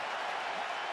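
A football stadium crowd roaring for a Detroit Lions rookie's run against the Patriots, a steady broad wash of cheering held at even loudness with no break.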